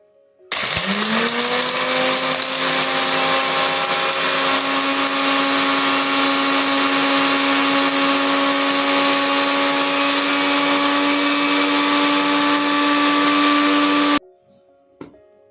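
A new electric kitchen blender grinds spices in one loud continuous whir that spins up abruptly, holds a steady motor tone for about fourteen seconds, then cuts off.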